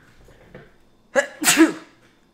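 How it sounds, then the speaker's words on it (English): A single loud, close sneeze bursts out after a quiet room tone, with a sharp intake and explosive release lasting under a second. "I sneeze a lot."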